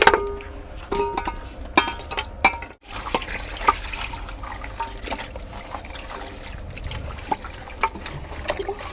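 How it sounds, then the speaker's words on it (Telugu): Goat trotters and head meat are washed in water with salt: close splashing and trickling runs continuously, broken by small clinks and knocks from handling, with no talk. "బా సూపర్గానే ఉప్పు వేసి మంచిగా కడుక్కోవాలి ఇంకొకసారి కడగాలి చెట్టు ఒకసారి కడిగినాం మళ్ళా సెకండ్ టైం కడుగుతున్నాం"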